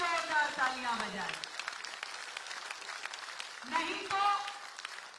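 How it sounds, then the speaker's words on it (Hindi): An audience applauds at the inauguration of the newly built Azadpur Bus Terminal, steady clapping continuing throughout, with a voice speaking over it at the start and again near the end. "चाहूंगी कि पूरा सदन एक बार अपने लिए जोरदार तालियां बजाए।"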